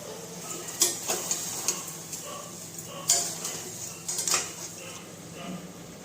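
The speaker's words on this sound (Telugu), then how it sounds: "తర్వాత ఉప్పు, పసుపు వేసుకొని బాగా ఫ్రై చేయాలి." Goat head meat fries with tomato, salt and turmeric in a pan, a faint sizzle under intermittent metallic clinks and scrapes of a spoon against the vessel.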